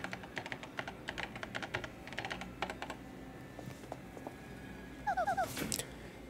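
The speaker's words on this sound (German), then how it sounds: "Tech, kann ich eine Mail schreiben?" Keyboard typing in the Paper Mario: The Thousand-Year Door game on Switch while an email is written, a quick run of clicky keystrokes with a few pauses, followed by a short burst of chirpy electronic beeps.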